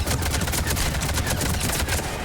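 Sustained rapid gunfire in the Mass Effect 3 video game, with a dense, loud burst of automatic shots running unbroken for a couple of seconds and no talk.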